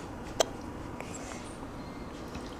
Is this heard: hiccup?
yes